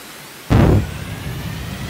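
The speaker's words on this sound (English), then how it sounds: "Start engine." A Coast Guard ship's engine starts in the video game Stormworks, a sudden loud burst of whooshing noise that fades into a steady low rumbling hum.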